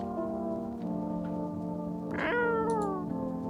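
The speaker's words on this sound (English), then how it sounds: "Pet the cat." A cat in the game No, I'm Not a Human gives one clear, rising meow partway through, heard over a steady tonal hum of background music.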